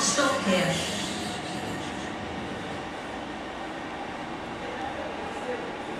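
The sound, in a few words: train passing through station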